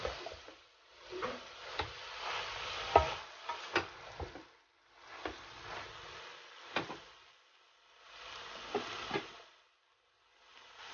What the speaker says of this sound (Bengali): এখন আমি ভালো করে নেড়ে চেড়ে মিক্স করে নিব।